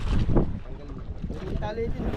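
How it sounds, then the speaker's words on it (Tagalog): Strong wind buffeting the microphone outdoors near the water, heavy low rumbling gusts with people talking over it. "lakas ng hangin o"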